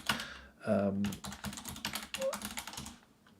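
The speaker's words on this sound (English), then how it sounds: "Mechanical keyboard right next to a microphone, probably not the best." Rapid clattering keystrokes on a mechanical keyboard sitting right beside a microphone, close and fairly quiet, in uneven bursts with a brief louder thump partway through.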